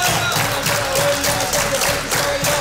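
A studio audience claps steadily for the Shiwi family on an Egyptian family quiz show final, a dense, continuous applause at fairly close range with a faint tone running underneath.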